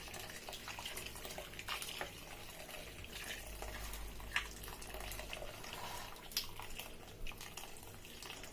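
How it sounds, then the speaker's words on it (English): Freshly boiled water from a kettle pours steadily into a cooking pot for jollof rice, a soft continuous splashing and trickling with small drips, quiet and close. "So I have boiled water from the kettle."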